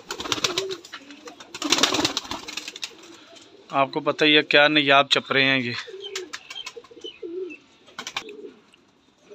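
Chapra pigeons cooing in soft, low bursts near the start and end, with someone speaking loudly in between, plus rustling and fluttering noises.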